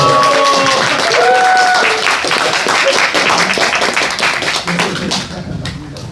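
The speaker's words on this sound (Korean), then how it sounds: "우리 박수로 우리 노철환 고모님을 제1호 강사를 여러분에게 뜨거운 박수로 환영해 주시고 부탁을 드리겠습니다" An audience at a live community lecture concert applauds to welcome a speaker, a loud sustained wash of clapping from a crowd, with a voice speaking over the start before the applause fades out.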